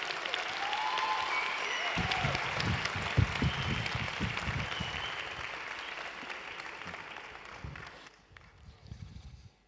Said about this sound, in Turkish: Yüksek alkışlarınızla sahneye davet ediyorum.